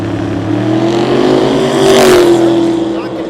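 Cleetus McFarland's drag car Mullet runs at a Sick Week 2022 drag strip, its loud engine note rising and sweeping in pitch as it passes close by, then easing away, while a commentator talks underneath.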